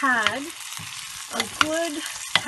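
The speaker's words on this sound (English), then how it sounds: "I'm just going to continue stirring this for the next few minutes" Cauliflower stirred with oil, salt, cumin and turmeric in a pan gives a soft steady sizzle broken by a few scraping stirs, close and fairly quiet.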